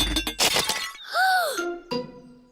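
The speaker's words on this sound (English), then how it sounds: "Mr. Bull has smashed the teapot to pieces" A china teapot smashes to pieces in a Peppa Pig cartoon: a sharp, bright crash of breaking crockery bursts out at the start, followed by a drawn-out voiced groan and a brief clatter.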